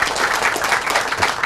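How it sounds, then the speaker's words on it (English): An audience claps steadily at a trail dedication ceremony in Rocky Hill, a dense, even wash of many hands that carries through the whole moment without a break. "Give her a big round of applause."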